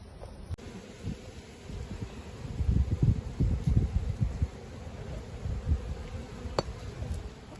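Bees buzzing close by on a farm with cover crops of mustard, phacelia and buckwheat, a wavering drone that swells and fades with faint outdoor rustle around it.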